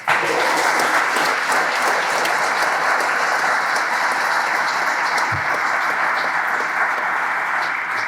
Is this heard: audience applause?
yes